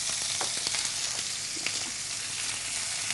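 Ginger and garlic paste frying in a hot pan, with a steady, dense sizzle throughout and a few light stirring clicks, no voices.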